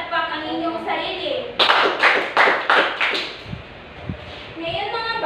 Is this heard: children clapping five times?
yes